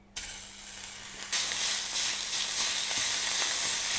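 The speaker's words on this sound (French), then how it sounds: "Donc là, notre huile est chaude, on va mettre la viande hachée." Minced meat dropped into hot oil in a pan, a sudden sizzle that jumps louder after a moment into a strong, steady hiss and crackle, close and continuous without speech.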